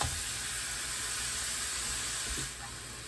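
Corned beef warming in a frying pan over medium-low heat for a Reuben sandwich, giving a steady, close hiss and sizzle that carries evenly throughout and softens slightly near the end.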